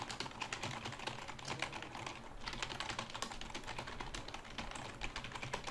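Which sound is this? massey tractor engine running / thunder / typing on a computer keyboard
typing on a computer keyboard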